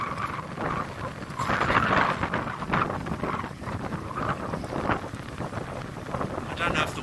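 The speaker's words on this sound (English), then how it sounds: "I don't know if the wind's really going to come out on the recording" Outdoors while fly fishing, wind buffets the microphone in continuous rumbling gusts that rise and fall, with faint voices partly under the noise.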